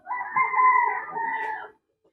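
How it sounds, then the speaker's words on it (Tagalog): A single drawn-out white Leghorn chicken call, close and clear, lasting under two seconds before falling silent. "Yung mga manok natin."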